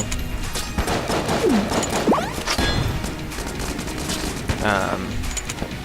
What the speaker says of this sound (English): That was basically a shot that destroys all bullets on the screen